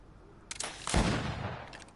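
A gunshot fired in the video game Greedfall, a single heavy blast with a rumbling tail, preceded by a few faint clicks.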